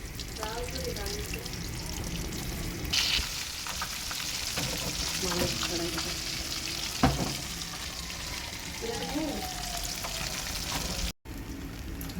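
Fish frying in a pan during a home cooking session, a steady low sizzle running throughout with occasional clinks and a sharper knock midway, and faint voices under it.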